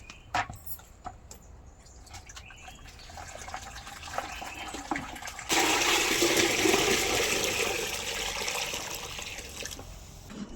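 Water poured or running into a container to dilute a homemade organic fertilizer made from cow dung and groundnut cake, starting with small splashes and clinks, then a steady loud gushing stream for several seconds before easing off.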